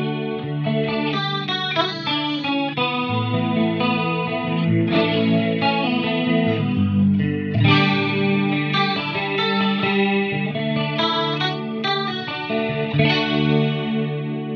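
A heavily modulated electric guitar through an Axe-Fx III, aiming for a signature clean tone, plays chords and melodic lines with a thick, shimmering chorus and dual-detuner doubling, steady and loud throughout.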